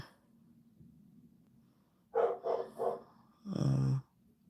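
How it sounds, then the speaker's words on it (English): A dog barks indoors in two bursts, three quick sharp barks followed by one longer, louder bark, close and clear over faint room noise. "sometimes you forget that dogs just bark for absolutely no freaking reason"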